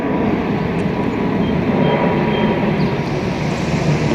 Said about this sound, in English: How about a big jetliner instead?